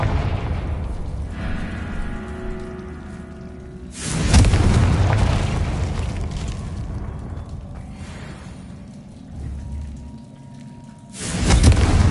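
Blasting spell explosions in a wizard video game, two heavy booming blasts with deep rumbling tails, the first around four seconds and the second near the end, over a steady low game ambience.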